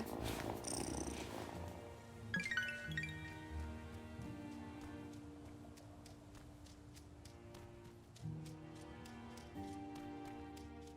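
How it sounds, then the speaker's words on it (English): A cat's steady, low rumbling purr in the video game Wylde Flowers continues throughout, layered with soft game sounds and occasional chimes and clicks. "Listen to that purr."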